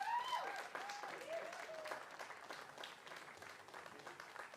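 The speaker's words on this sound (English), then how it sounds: "And final round of applause for our competitors." Audience applause for STIHL Timbersports competitors at a women's cup event, a steady wash of clapping that holds for several seconds with a faint tonal whistle or feedback sweep near the start and no clear talk over it.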